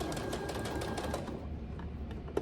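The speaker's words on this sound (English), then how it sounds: "You're only sewing the bottom of the foot." A sewing machine stitches the bottom of a fabric memory teddy bear's foot, a steady close whirring hum with rapid needle chatter that runs continuously and eases slightly toward the end.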